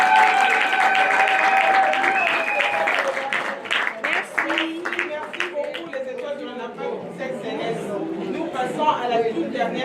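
Applause at a women's month closing ceremony at ONAPAC, with loud clapping that peaks in the first few seconds, then fades into crowd chatter and voices.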